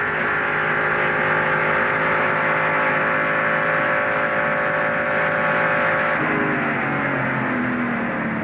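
An onboard Porsche-powered Fabcar race car at the 2004 Rolex 24 endurance race holds a loud, steady engine drone that stays near and continuous, with a pitch shift late on as it changes gear or speed.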